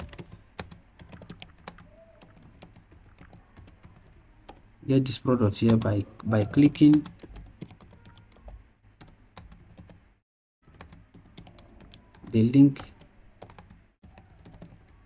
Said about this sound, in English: you will now type something here